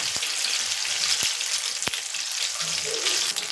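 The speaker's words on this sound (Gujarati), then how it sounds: "એક બાજુનો ભાગ તળાઈ ગયો છે. તળાતા તો કંઈક આવા દેખાય છે આપણા ટમેટાના ભજીયા." Tomato bhajiya frying in hot oil: a continuous close hiss and bubble of sizzling, punctuated by a few sharp pops and clicks, with no one talking.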